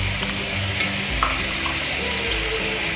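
Potatoes and capsicum fry on a griddle for street-style tawa pulav, making a steady, loud sizzle with occasional low thuds of stirring.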